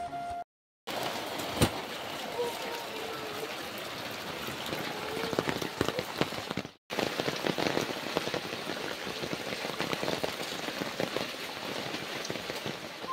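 Heavy rain pours down in a dense, continuous patter on surfaces nearby, steady and fairly loud, broken only by two short dropouts, with no voices over it.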